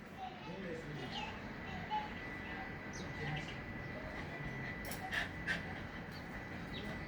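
A dog pants in quick, breathy bursts, fairly quiet, while children's voices chatter in the background.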